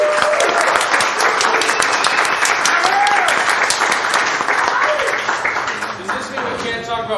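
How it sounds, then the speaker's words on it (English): A crowd at a live whiskey podcast recording gives a loud round of applause and cheers for the guests, the clapping dense at first and gradually tapering, with shouts and voices mixed in. "please give a really loud round of applause for Drammers"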